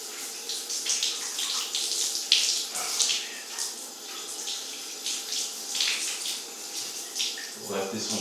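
A running shower splashes and patters steadily close by, with irregular bursts of spray and brief murmured voice sounds under the water.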